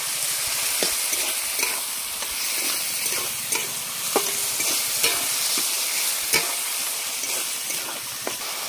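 Onion paste, tomato and ginger-garlic paste fry in a pan, a steady close sizzle broken by sharp scrapes and clinks of a spoon stirring, with no voices.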